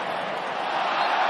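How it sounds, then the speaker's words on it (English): A stadium crowd at a Tottenham versus Southampton football match gives a broad, even wash of applause and crowd noise, brief and at a moderate distance. "appreciative applause"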